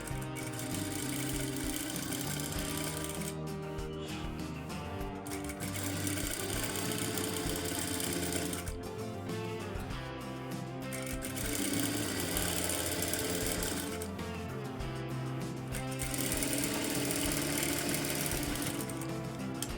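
Sewing machine stitching fabric for a thin dori cord, running continuously at a fast, steady buzzing pace with short pauses, close and fairly loud with no voices heard.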